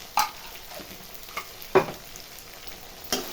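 Turmeric is stirred into a sizzling pan for chicken curry, with soft frying underneath and three or four distinct scraping stirs of a spoon at irregular intervals.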